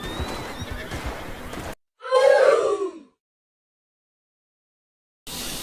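A horse in Red Dead Redemption 2 gives one loud, close, shuddering neigh of about a second, set between stretches of game ambience and near silence.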